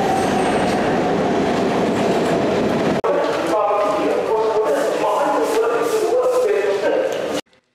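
A passenger train runs past, a continuous loud rumble with clattering wheels. The sound shifts partway through with squealing tones before cutting off near the end.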